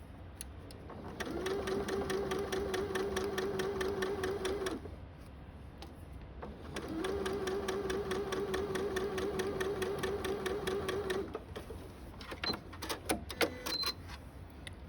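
Sewing machine stitching quilt hourglass units in two steady runs of several seconds each, an even humming rattle with a short pause between, then lighter clicks and fabric handling.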